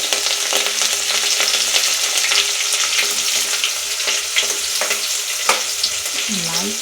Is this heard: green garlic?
yes